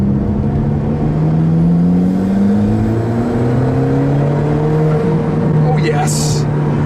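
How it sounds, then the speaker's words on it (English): Alfa Romeo 4C turbocharged four-cylinder engine droning loudly as it accelerates, with rising and shifting engine tones that suggest a downshift, and a brief hiss near the end. "And that turbo sound is just perfect."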